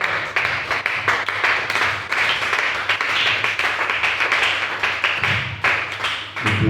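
A church congregation at a French-language service claps steadily, with crisp individual hand claps forming a dense, continuous round of applause that tapers slightly at the end.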